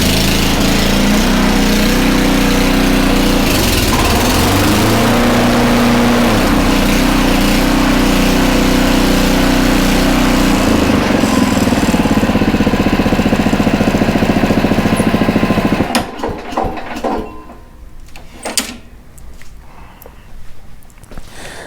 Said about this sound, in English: I still turned it on with full throttle and then turned the blade clutch on